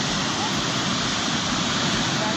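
Rushing floodwater heavily laden with debris after a mudslide in Pariahuanca roars in a loud, steady broadband torrent, close and unbroken from start to finish.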